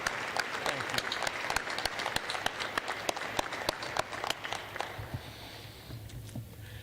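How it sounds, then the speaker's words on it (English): Audience applause for mothers at a law school commencement ceremony, with steady clapping from a large crowd throughout that slowly thins toward the end, individual claps standing out sharply. "We want to applaud you and the important role that you play."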